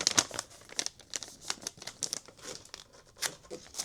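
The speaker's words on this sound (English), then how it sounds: "Tissue paper inside the box and I'm putting the bag in there." Tissue paper crinkles and rustles while being packed into a small shipping box for an order, a close run of papery crackles and crisp crumpling bursts with no talking.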